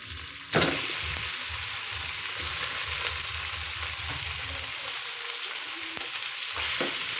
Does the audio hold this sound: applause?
no